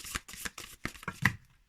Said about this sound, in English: Well, I don't really need to shuffle. This is force of habit.